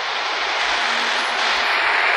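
A modified Volvo truck engine in the Truckers of Europe 3 video game roars with a loud, steady, hissing rush that swells slightly, with no talking.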